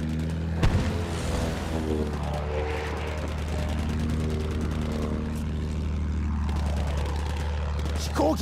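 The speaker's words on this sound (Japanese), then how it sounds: "飛行機だ。 上にいるぞ。" Enemy propeller aircraft in the WWI shooter Battlefield 1 drone steadily overhead, a loud, rumbling engine tone that persists throughout, with a sharp explosion near the start and battle noise beneath.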